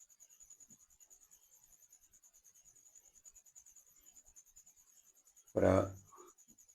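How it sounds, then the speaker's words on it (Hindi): Writing on a board during a maths lesson makes a faint, steady run of rhythmic scratching strokes, then a single loud knock near the end. "तो यहाँ पर सिर्फ लिखेंगे यूक्लिड"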